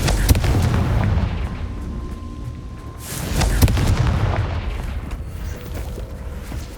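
Fiery Confringo spell blasts in Hogwarts Legacy, a series of loud booming impacts with crackling bursts over a droning game soundscape.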